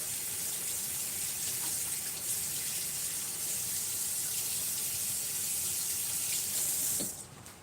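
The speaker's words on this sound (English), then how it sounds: "let me wash my hands." Water running steadily from a tap while hands are washed, a constant close hiss and splash that continues unbroken for several seconds before being turned off near the end.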